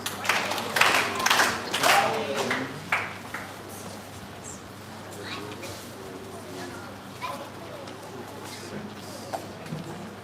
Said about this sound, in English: let's give all of them a 4-H clap